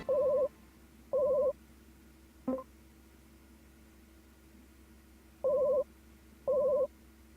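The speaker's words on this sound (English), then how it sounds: "A phone. I guess I should answer it." A phone ringing in the RPG Maker 1 video game Gobli: short electronic beeping rings in two pairs separated by a long pause, with a faint click between them, over a low steady hum.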